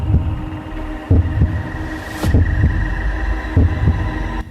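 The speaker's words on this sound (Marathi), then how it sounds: "हृदय जोरात धडधडतं।" A heartbeat sound effect pounds in deep, regular double thumps, loud and close, over a low steady hum.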